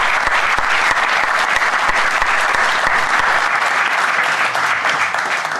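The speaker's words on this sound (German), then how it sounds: "Das ist Ihr Applaus." Dense, loud audience applause fills the hall continuously and evenly from start to finish, with no talk over it.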